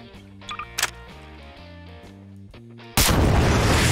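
A bomb exploding in Garry's Mod: a steady, humming mechanical drone is cut off by a sudden, loud, broad blast that keeps roaring to the end.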